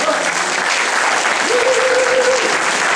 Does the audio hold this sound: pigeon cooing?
no